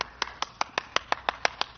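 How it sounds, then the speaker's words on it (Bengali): Eleven crisp hand claps at a brisk, even pace, each sharp and distinct with quiet gaps between, fairly close and alone. "প্রথমে তো ভাই এডিটারের জন্য জোরে হাততালি"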